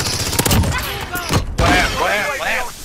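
Covering gunfire in a Rainbow Six team deathmatch, rapid bursts of shots up close mixed with impacts and game effects, with voices talking over part of the barrage.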